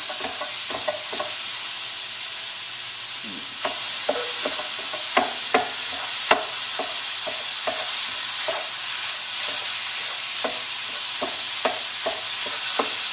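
Ground turkey browns in a hot pan, a continuous sizzle broken by sharp utensil scrapes and clacks as the meat is stirred and broken up, all close and with no voices.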